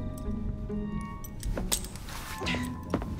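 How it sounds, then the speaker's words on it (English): Keys jangle as they are handed over in a Victorian London scene from Assassin's Creed Syndicate, bright metallic clinks in a few short bursts over a low background hum. "Now hand over your keys"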